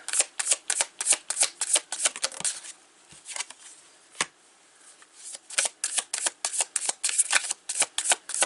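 A tarot deck is shuffled close up in rapid crisp riffling bursts, a short pause in the middle, then more brisk shuffling with no voices.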